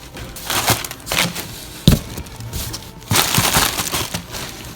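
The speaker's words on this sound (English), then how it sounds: "the big box looks like it might be full of these packaging peanuts" A box of packaging peanuts being rummaged through, loud close crunching and rustling bursts in irregular handfuls with short gaps between.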